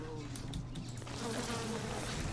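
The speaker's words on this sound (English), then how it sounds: "Bees?" Swarm of bees buzzing in the video game BioShock, a dense steady droning hum filling the space throughout, moderately loud and continuous.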